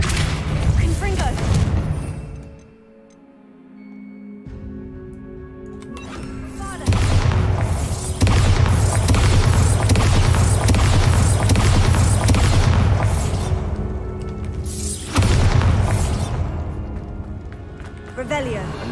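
Confringo fire-blast spell explosions from the video game Hogwarts Legacy, loud booming bursts, one opening blast then a sustained rumbling roar and a second burst later, with game speech mixed in.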